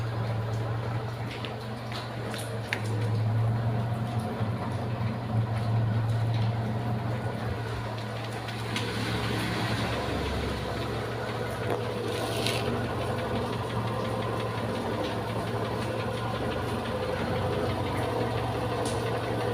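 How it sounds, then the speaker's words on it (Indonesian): A carburetted Toyota Kijang engine idles steadily with a low, even exhaust drone throughout, close and continuous, with its valve clearances freshly set level. "Nih, suara di knalpot juga lebih enak kalau klepnya rata nih"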